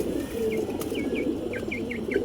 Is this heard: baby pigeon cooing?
yes